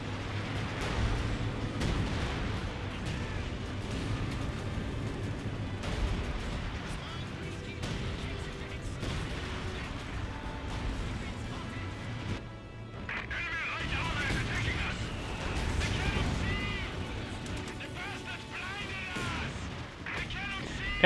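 Artillery fire in a Company of Heroes 2 3v3 match, with a Priest and 10.5 guns trading shots: booming blasts and crashing impacts rumble continuously under game noise, with commentators talking throughout.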